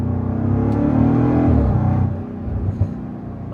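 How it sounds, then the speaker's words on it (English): A Land Rover Defender V8 in sport drive mode revs with a deep, loud exhaust rumble that swells and then eases off, followed by a lighter burble and a small pop as the engine settles. "Getting a little bit more exhaust noise too."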